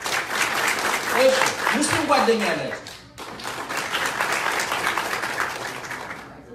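An audience at a sermon or church talk claps in a dense, steady burst, with a voice speaking over it and a brief drop in the middle before the clapping resumes.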